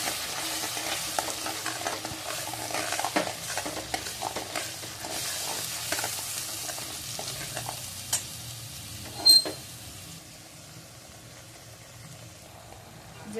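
Ground masala paste being stirred into frying misal gravy, a low bubbling sizzle with slow, repeated spoon scrapes and a brief louder clatter near the end before it settles quieter.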